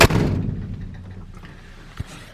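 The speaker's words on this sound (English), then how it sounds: "Go ahead and shut the door." The heavy door of a 1948 Ford flathead flatbed farm truck slams shut with a loud thud at the start, followed by a fainter knock a moment later.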